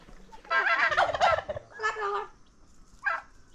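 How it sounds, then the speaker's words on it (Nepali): A turkey gobbles near a village house with mud-plastered walls and a thatched roof, two loud bursts of gobbling followed by a shorter third call, fairly close with no talking over it. "टर्की"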